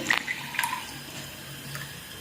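Water poured from a glass into a steel pot of raw mangoes on the stove, giving a short, soft splashing pour with a brief trickle, fairly quiet and alone with no talk.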